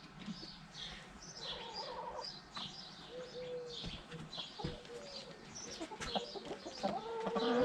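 Chickens cluck and murmur close by in a quiet yard, with soft coos and a few sharper calls toward the end.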